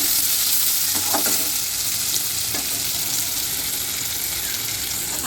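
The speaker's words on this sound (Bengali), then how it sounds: "আর সাথে এদিকে একটু উচ্ছে আলু ভাজা বসিয়ে দিয়েছি।" Bitter gourd and potatoes fry in a pan with a steady, close sizzle and crackle that fills the whole stretch, with a few brief stirring clinks near the start.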